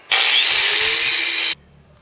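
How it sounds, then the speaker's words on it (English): A grinder bites into metal tubing for an off-road handcycle in one loud, harsh, continuous burst of about a second and a half, then cuts off abruptly to a low hum. "Let's just grind the rest out."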